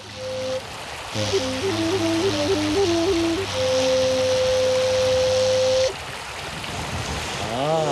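Flowing water in the Mongolian countryside makes a steady broadband rush beneath a sustained, wavering melody played on a wind instrument; the rushing continues throughout and briefly grows louder midway.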